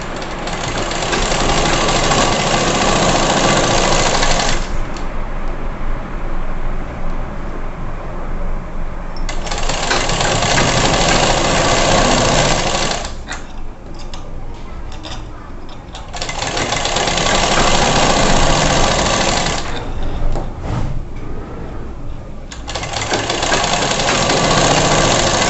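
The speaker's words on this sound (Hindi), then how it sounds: "अब इसको हम दोबारा ऐसे पलट करके एक सिलाई इस पर हम और लगा देंगे इस तरीके से।" A sewing machine stitches a girl's frock in long, loud, steady runs of rapid mechanical whirring, broken by brief pauses with clicks and fabric handling between the bursts.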